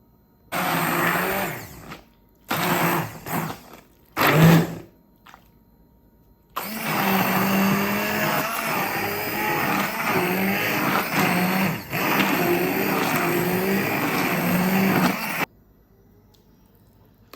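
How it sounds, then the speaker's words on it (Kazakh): An electric blender purées zucchini for zucchini caviar, a winter salad. Several short, loud motor bursts with pauses between them lead into one long, steady whirring run, then the motor stops and the clip ends in silence. "блендермен өткізем қазір."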